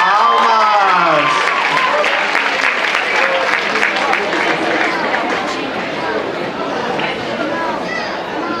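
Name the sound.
audience applause at dance award ceremony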